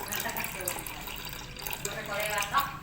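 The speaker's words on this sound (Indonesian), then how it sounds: "tinggal disiram dengan susu" Milk pours steadily into a jar for homemade kefir, a continuous liquid splash and gurgle that rises slightly near the end, heard close up with voice underneath.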